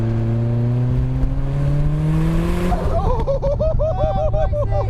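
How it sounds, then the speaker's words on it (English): A Mazda MX-5 with a turbo fitted revs up loudly close by, the engine note climbing steadily before dropping into a burbling, warbling idle with turbo whir on top. "Oh, I can hear the turbo."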